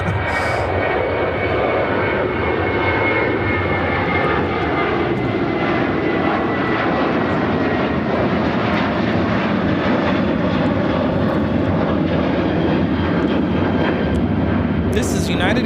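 A United Airlines Boeing 737-700 jet taking off from Chicago O'Hare, a sustained loud engine roar with steady whining tones, holding close and strong the whole time while people talk over it.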